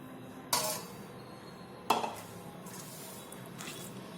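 Wheat flour dough, kneaded for rotis, being shifted from one mixing bowl into another, with two sharp bowl clinks about a second apart and faint clatter afterward, no talking.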